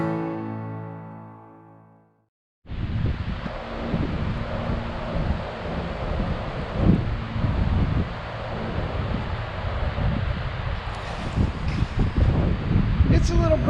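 Breezy wind blows steadily outdoors on a remote island homestead in southeast Alaska, a loud, continuous rumble buffeting the microphone after a brief quiet start.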